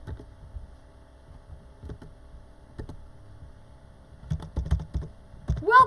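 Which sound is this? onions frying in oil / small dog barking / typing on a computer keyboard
typing on a computer keyboard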